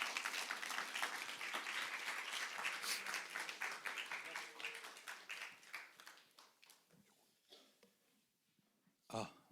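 A church youth group's winter retreat audience claps to welcome a guest lecturer, starting as loud, dense applause that thins and fades over several seconds into scattered claps, with a final sharp clap near the end.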